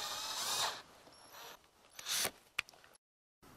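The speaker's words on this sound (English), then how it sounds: "7/64 inch or smaller drill bit to drill two pilot holes on each side" A power drill bores two pilot holes with a 7/64-inch or smaller bit through an RV vent lid frame, delivering two loud whirring bursts separated by quieter handling sounds. A sharp click follows, then a brief silence.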